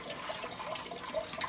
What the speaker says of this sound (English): the water is constantly splashing on top of our lid here and creating a mess